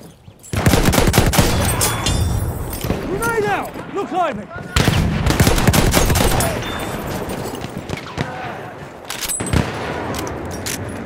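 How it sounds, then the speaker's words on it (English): Battlefield 1 battle soundscape with an enemy machine gun firing in loud, dense bursts amid other gunfire and explosions, nearly continuous throughout with brief lulls. "Enemy machine gun."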